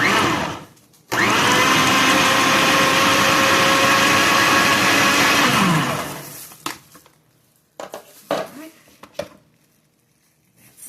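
Blender pulsing fresh garden tomatoes for salsa, a loud steady motor whir for about five seconds that stops abruptly, followed by a few clatters and knocks.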